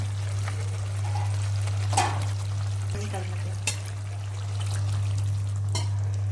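Cooked moong dal being stirred into a pan, with soft wet scraping and sloshing under a steady low hum and a few sharp clinks of the spoon against the pan.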